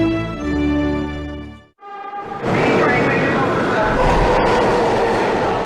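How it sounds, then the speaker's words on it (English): A New York City subway train pulls into the station, loud and close, with a steady rumbling roar and rattling that swells after a brief dip and holds continuously. "The train was coming in like that."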